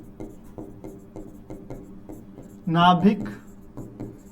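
Chalk or marker strokes on a board during a Hindi-language physics lesson on Bohr's atomic model, a steady series of short scratchy taps under a teacher's speech.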